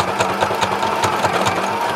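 A sewing machine stitches a tote bag in a quick, even run of close mechanical clatters with a low motor hum beneath, loud and near, and no voices.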